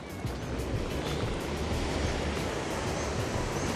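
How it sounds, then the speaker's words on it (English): Constant rushing roar of a waterfall in Scotland, broad and steady at moderate distance, with no talking. "Let's show you the waterfall."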